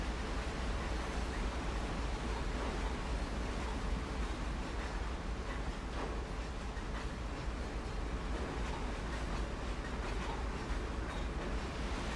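A CSX heavy-haul freight train in Train Simulator World being loaded car by car, heard as a steady, quiet rumbling wash of noise with no distinct events, unchanging throughout.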